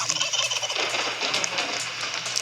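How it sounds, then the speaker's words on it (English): Fowl calls from a video game, a steady run of clucking and gobbling bird sounds carried over game background noise for a couple of seconds, with no talking. "How do you get the chicken, bro?"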